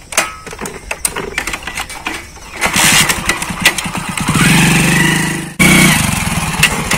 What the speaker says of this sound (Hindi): अरे मैं बाइक चलाने लग रहा हूँ